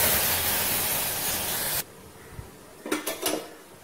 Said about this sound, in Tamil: இந்த ட்ரை பவுடரை இப்போ நல்லா எண்ணெயில் கொஞ்சம் வதங்கும் போதே நம்ம எடுத்து வச்சுருக்க கருவேப்பிலையும் ஆட் பண்ணிடலாம்.